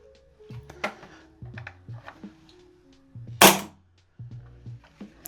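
A VFC/EMG SI SMP gas blowback airsoft pistol fires one sharp, loud crack amid a series of quieter mechanical clicks and clacks from handling, all close to the microphone.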